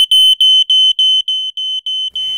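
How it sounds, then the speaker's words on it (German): Loud, high-pitched electronic beeps from an ABUS smoke alarm repeat in a steady rapid pattern, about eight short pulses, close by with no voices. "Der laute Alarm der Rauchwarnmelder alarmiert Sie rechtzeitig"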